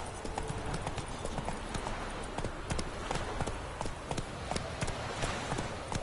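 Roach the horse gallops in The Witcher 3, rapid rhythmic hoofbeats pounding steadily and close throughout, with faint game ambience beneath.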